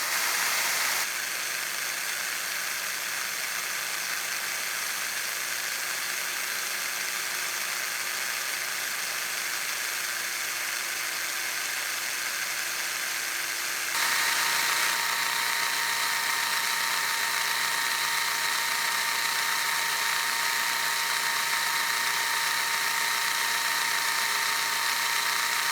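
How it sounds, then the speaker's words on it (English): Drill bit boring through metal, a continuous loud high-pitched whine and hiss that holds steady for a long stretch and shifts slightly in tone partway through as it cuts. "you'll see it starting to cut through it"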